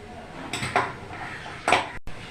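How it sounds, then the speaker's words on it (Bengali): A knife scrapes around the edges of homemade tomato papad to loosen it from the surface, giving two short, close scraping bursts with light clinks in between. "আমি একটা চাকু নিয়েছি, এই চাকুটা দিয়ে চারিপাশটা একটু ছাড়িয়ে নেব।"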